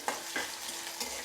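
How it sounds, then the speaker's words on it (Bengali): Chopped onion frying in a pan, a soft, steady sizzle close by with a few light stirring scrapes, no voices. "পেঁয়াজটা ব্রাউন কালার করে আমি হালকা ব্রাউন কালার করে ভেজে নেব"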